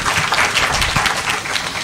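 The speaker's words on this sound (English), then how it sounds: "Give him a big clap." An audience at a physicians' association meeting applauds after a medical presentation, dense, steady clapping from many hands filling the whole short stretch.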